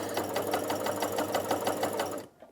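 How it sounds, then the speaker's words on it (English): A Janome CoverPro 3000 coverstitch machine runs steadily over scrap fabric, its needle producing a fast, even rhythmic chatter up close for about two seconds before stopping abruptly. "So you want to have had a few stitched first, which I'm going to do on a scrap piece of fabric actually."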